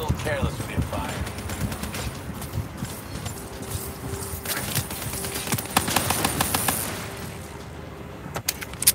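Gunfire in Call of Duty Black Ops 3 crackles in rapid bursts and scattered shots during a combat scene, mixed with game effects and a voice talking over the action, moderately loud.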